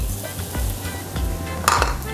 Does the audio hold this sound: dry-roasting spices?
yes